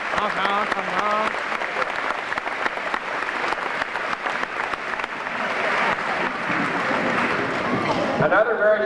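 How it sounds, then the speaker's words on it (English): A graduation ceremony crowd claps steadily for the graduating seniors, a full round of applause lasting several seconds, with a voice briefly audible near the start and another as the clapping winds down. "of applause"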